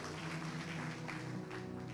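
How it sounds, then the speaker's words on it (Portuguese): A church congregation claps together in steady applause, continuous and fairly full, filling the room with dense overlapping hand claps and a faint murmur of voices beneath. "Se você crê nisso, aplauda o Senhor."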